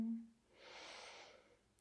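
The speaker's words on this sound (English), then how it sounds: "Notice your breathing." A single soft, slow breath drawn in during a quiet yoga session, faint and close, rising and fading over about a second.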